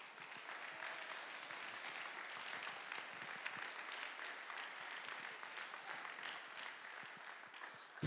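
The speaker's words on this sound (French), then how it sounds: "Vous pouvez déjà les applaudir bien fort." An audience at a left-wing political meeting in Lomme claps for invited speakers. The dense, steady applause continues unbroken and evenly loud from start to finish.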